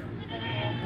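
A goat bleats close by on a Pakistani farm, a short, loud, wavering cry with a voice overlapping it.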